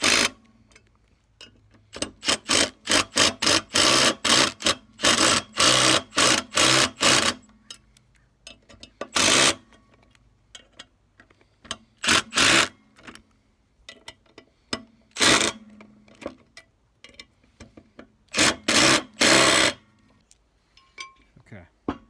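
Bolts are tightened on a six-lug front disc brake conversion for a 1947–59 Chevrolet or GMC truck, with bursts of rapid metallic ratchet clicks separated by pauses and a few isolated clinks.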